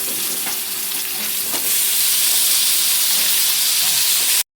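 Mixed vegetables going into a pan of spices frying for a summer moong dal dish, giving a loud, steady sizzle and hiss with a few soft stirring knocks, cut off sharply at the end.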